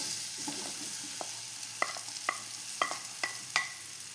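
Banana pieces sauté in ghee with a low, steady sizzle while a spatula scrapes and taps the pan in a series of sharp, regular strokes, close and quiet, with no speech.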